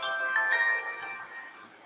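A mobile phone ringtone chimes once, a bright tonal melody that fades out quickly with no voices present.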